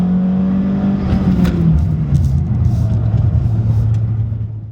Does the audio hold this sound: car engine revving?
yes